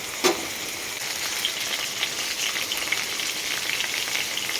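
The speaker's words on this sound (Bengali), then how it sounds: "এই আলুটা ভাজা ভাজা হয়ে যাবে তারপরে কিন্তু কুমড়োটা ভাজবো" Potatoes fry in hot oil, giving an even, continuous hissing sizzle with light crackle throughout, close by and with no voices.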